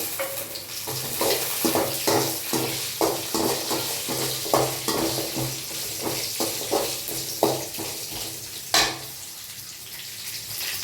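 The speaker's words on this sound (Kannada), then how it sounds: "ಮೆಣಸಿನ್ಕಾಯಿ ಸಿಡಿಯುತ್ತೆ" Dried chillies crackle and pop in hot oil in a pan alongside whole spices like cloves, cinnamon, cardamom and fennel for a vegetable pulao, a busy sizzle with repeated sharp spits and a louder pop near the end.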